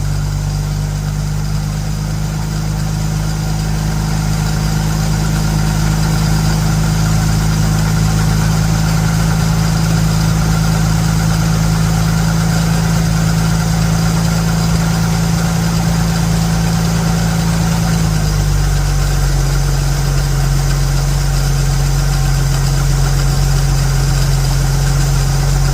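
A Dodge engine fitted with a Stromberg BXVES-3 carburetor idles loudly and steadily close by, a constant low rumble whose pitch drops slightly near the end as it settles.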